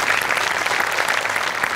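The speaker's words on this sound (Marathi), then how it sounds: "त्यावर तुमच्या सगळ्यांसाठी टाळ्या वाजल्या पाहिजेत" A studio audience at a comedy show claps steadily and densely throughout, a continuous wash of applause with no break.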